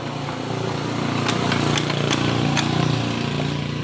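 A Honda Beat scooter, converted from fuel injection to a carburetor, runs with a steady, loud engine drone and a rough, buzzing idle throughout, close to the microphone and with no talk.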